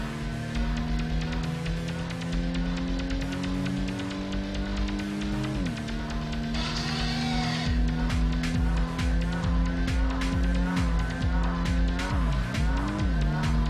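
A car driving in Gran Turismo with a loud, steady engine drone whose pitch holds and then drops at gear changes, alongside a brief tire squeal near the middle.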